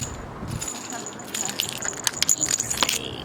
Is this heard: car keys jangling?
yes